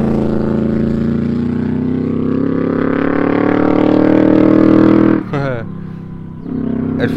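A stock Yamaha 1200 Vmax motorcycle engine runs close by, a loud steady deep rumble that rises slightly in pitch, then briefly drops off and settles back to idle near the end.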